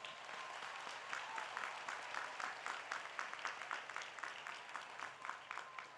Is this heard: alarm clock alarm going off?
no